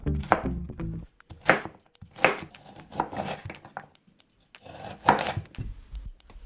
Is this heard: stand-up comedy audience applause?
no